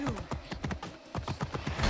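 Horse hooves clip-clop steadily in Assassin's Creed Origins, a brisk, fairly close rhythm of evenly spaced hoof strikes running for a couple of seconds with a slight swell in loudness at the end.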